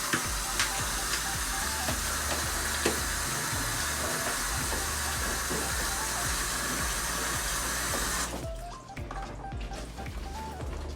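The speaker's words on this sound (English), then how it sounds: "And then you basically going to rinse them off." Beef stew pieces rinsed under a running tap, a steady loud rushing hiss of water that continues unbroken for several seconds and then drops off sharply near the end.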